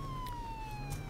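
A police car siren wails in the video game H1Z1, a single faint, steady tone that slides slowly downward across a brief moment, with no talking.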